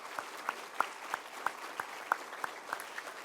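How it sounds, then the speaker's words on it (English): A sparse audience at the dedication ceremony for Joe May gives polite applause for his family, heard as a light scattering of claps in a steady rhythm over a soft crowd bed. "Let's give the family of Joe May a round of applause."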